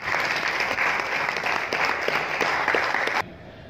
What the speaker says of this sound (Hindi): तो एक जोरदार तालियां उनके लिए यहाँ पे देना चाहेंगे हम लोग सब